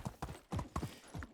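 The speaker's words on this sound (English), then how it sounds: "I need to quieten down my impatient horse." An impatient horse's hooves in the Medieval Dynasty video game clop in a quick, uneven series of thuds, close and moderately loud with no talking.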